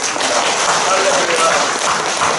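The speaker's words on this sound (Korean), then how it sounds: "우리 뜨겁게 박수 한번 보내드리겠습니다" A congregation at a Wednesday church service applauds warmly, a steady, dense wash of many hands clapping together that fills the room loudly and continuously throughout.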